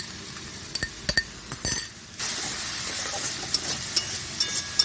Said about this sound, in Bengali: এবার আমি বাটা পেঁয়াজটা তেলে ভাজবো ভালো করে